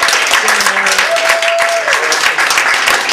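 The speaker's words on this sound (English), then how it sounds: "I also want to give a huge thanks and round of applause to Heather Thiessen and the Women's Center" Loud close applause from an audience at a community history panel in a church, rapid irregular clapping throughout, with some voices and cheering mixed in.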